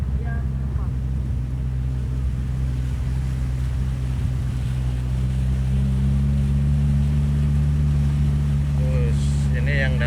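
A car pushes slowly through deep flood water on a trip to Pulo Tiga, Aceh Tamiang, with a heavy steady engine drone and sloshing water throughout and brief voices near the end.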